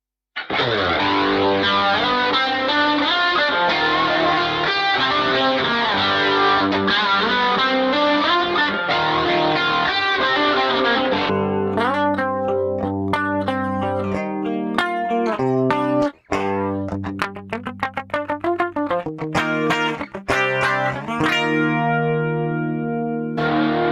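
Heavily processed electric guitar through a Rockman amp emulation with distortion, chorus and echo, sustained chords and then choppier riffs and single notes, loud and close throughout.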